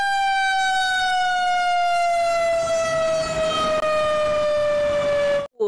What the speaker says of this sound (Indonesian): Yang ini satu lagi pemadam kebakaran teman-teman.